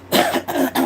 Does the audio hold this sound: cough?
yes